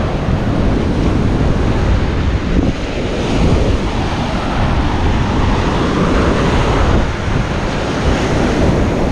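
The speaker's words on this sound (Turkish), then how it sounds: "Çok muhteşem bir dalgası var böyle." Ocean surf breaks on a beach in a hidden cove on Bali, a loud, continuous roar of crashing and washing waves with heavy wind buffeting and no voices.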